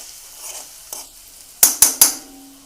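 Ground curry leaves stirred into homemade hair oil in a pan: faint scraping, then three sharp, close metallic clinks of the spoon in quick succession.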